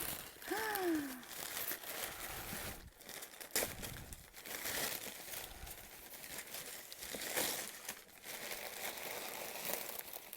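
Yellow flower-patterned and pink wrapping paper crinkles and rustles close up in irregular bursts as a happy-mail parcel is opened, with a brief faint chirp near the start.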